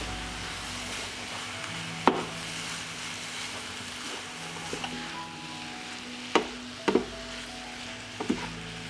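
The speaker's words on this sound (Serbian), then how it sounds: "Na povrće dodajem meso i pržit ću još 10 minuta." Meat, onion and carrots frying together in a pan, a steady broad sizzle running throughout, broken by a few sharp clacks of a utensil against the pan.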